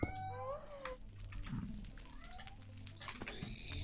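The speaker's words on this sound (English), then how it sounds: "Hope you're enjoying the sounds of my cat howling in the background." A cat howls and meows repeatedly in the background, with drawn-out wavering yowls rising and falling across the whole stretch, fairly close and fairly loud over low room noise.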